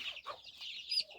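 Local chickens and chicks on a small poultry farm, brief soft clucking and high peeping calls, fairly close and quiet, with no talking.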